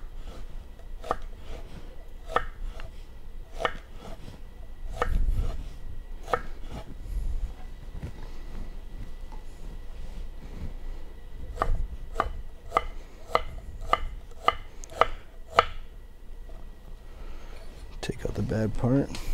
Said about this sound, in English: we're going to try to cut the onion in the same size as the tomatoes